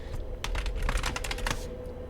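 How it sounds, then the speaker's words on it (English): Steady run of computer keyboard typing, a quick burst of close keystrokes lasting about two seconds with no voices. "Let me just type that out."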